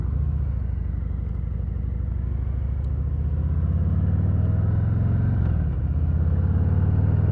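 Harley-Davidson Revival Hydra Glide motorcycle riding on the road, a steady, loud, low engine rumble with constant wind noise throughout, the note shifting slightly as it goes.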